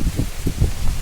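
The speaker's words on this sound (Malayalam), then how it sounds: "നല്ല അടിപൊളി കാറ്റും മഴയാണ്" Strong wind and rain lash an outdoor spot beside a fish pond, with steady rain noise and repeated low, rumbling gusts surging and easing over a continuous wash; no one speaks.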